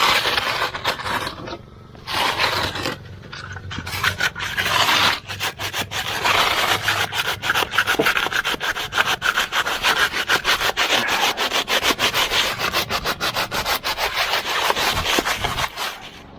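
A handsaw cuts wood at an angle beneath a stair riser, with fast, rasping back-and-forth strokes that run steadily and close by, briefly pausing near the start, no talking.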